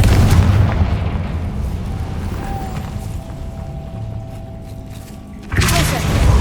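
A Confringo explosive spell blasts in the Hogwarts Legacy video game, a heavy rumbling boom at the start, a lower sustained roar through the middle, and a second loud burst near the end.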